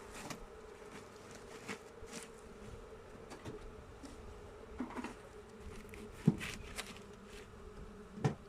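A soft, continuous hum of many honeybees buzzing close by at an open hive, with occasional louder individual bees passing near and small tapping sounds.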